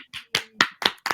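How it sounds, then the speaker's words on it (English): A few people clapping sparsely, six or so distinct claps in an uneven rhythm, close and fairly quiet. "round of applause for Sarah"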